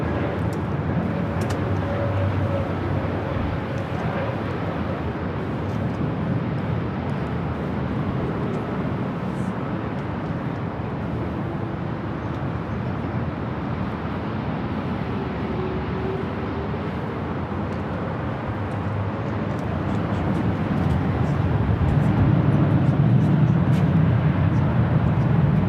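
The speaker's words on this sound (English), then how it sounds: "the Delta A350 flight heading to Paris" A Delta Airbus A350 airliner at LAX gives a distant, steady jet roar that swells toward the end, with faint background noise and no one talking close by.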